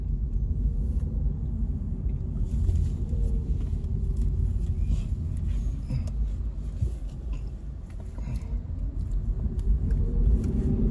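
Steady low engine rumble and road noise from inside a moving car, continuous and fairly loud throughout with no clear talk over it.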